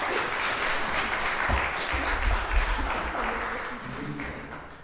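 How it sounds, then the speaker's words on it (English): Audience applause at a Sunday church service, steady and fairly close, sustained throughout with a slight swell midway and a gradual fade, mixed with some murmuring voices. "By the way, you're allowed to clap too."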